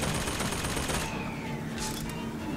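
Rapid bursts of gunfire in BioShock Infinite crackle densely for the first second, then a softer sustained rumble with faint electronic tones continues.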